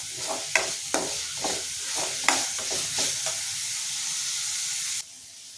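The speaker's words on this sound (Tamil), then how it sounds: "தக்காளி சேர்த்துக்கலாம் தக்காளி நல்லா வதங்கட்டும்" Tomatoes sauté with ginger and garlic in a pan for a Chettinad-style chicken gravy, giving a steady sizzle. Repeated scraping stirs cut through it close up, and the sizzle drops off sharply near the end.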